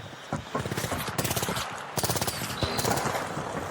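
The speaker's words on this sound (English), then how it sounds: "There's a gunfight going on." Rapid automatic gunfire crackles in the ARC Raiders video game as hostile bots trade shots with human players below, with dense bursts of fire that pause briefly and then resume, loud and continuous throughout.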